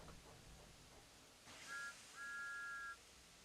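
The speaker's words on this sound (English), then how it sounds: "Thomas likes whistling cheekily at him." Two short high steam engine whistle toots in cartoon style, the second held longer, clear but faint over soft background noise.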